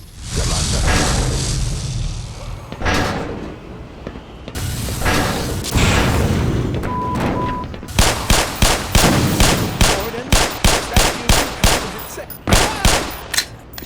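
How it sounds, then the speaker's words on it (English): Pistol gunfire in the video game Black Mesa: a rapid string of sharp, loud shots fires in quick succession, following earlier whooshing and booming game action. "it felt great using the pistol for the first time"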